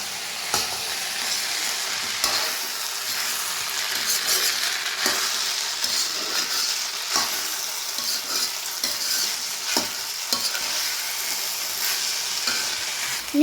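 Avakaya mango pickle fried rice frying in a pan over high flame, with a loud, constant sizzle and repeated spoon scrapes against the pan as it is tossed.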